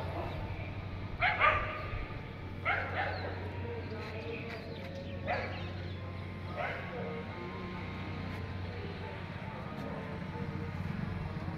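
Several dogs bark in short bursts at a moderate distance at night, the barking tapering off into a steady low background hum.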